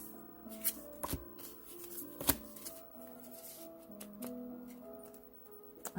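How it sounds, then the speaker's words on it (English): Tarot cards being shuffled by hand, a rapid riffling and slapping with a few sharper snaps, close and moderately loud, with no talking. "Let's try shuffling these again."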